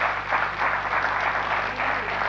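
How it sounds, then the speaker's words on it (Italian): Audience at a Sicilian song festival applauding, a dense, steady wash of clapping that holds at an even level for the whole stretch. "Facciamo un applauso anche dall'altra parte del pubblico."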